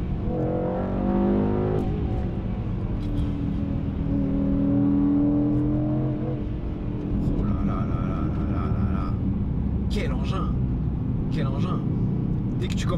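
Mercedes-AMG E63S with a 9-speed gearbox driving hard through corners, its engine note rising and falling through short gear changes close by, with someone talking over it throughout.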